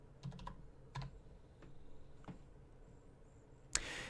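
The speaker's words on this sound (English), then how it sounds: "Type in your password." Computer keyboard keys pressed while entering a password in a Linux terminal on Solus, a few scattered soft clicks spaced apart, ending in one sharper louder keystroke like the Enter key, close and quiet with no talking.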